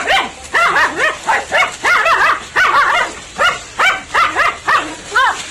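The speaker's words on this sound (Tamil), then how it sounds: "நாகப்பாம்புடன் நாய் சண்டை போட்டுக் கொண்டிருந்ததை கண்டு அதிர்ச்சி அடைந்தார்" A dog barks in sharp, repeated bursts while confronting a cobra, loud and close, with brief yips and whimpering tones mixed into the steady run of barks.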